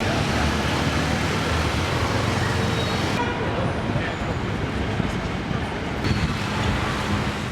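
Dense, steady traffic roar from a busy city avenue, loud and continuous throughout with a broadband wash of engines and tyres and no single vehicle standing out.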